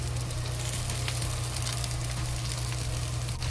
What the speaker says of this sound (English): And slowly fry until they release good smell